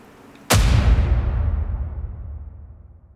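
A grenade goes off in the video game Sons Of The Forest: one sudden loud blast with a booming low rumble that slowly fades over a few seconds, with no talking.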